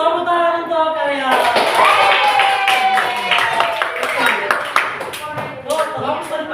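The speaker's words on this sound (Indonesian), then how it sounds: "Tepuk tangan untuk karya." In a classroom during a coding and artificial intelligence lesson, voices talk, then a group breaks into brisk clapping that runs for several seconds, mixed with chatter and a few sharp taps.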